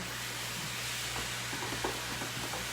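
Ground venison and beef stirred and broken up in a hot frying pan, a constant loud sizzle with soft scraping stir strokes running through it and no talking.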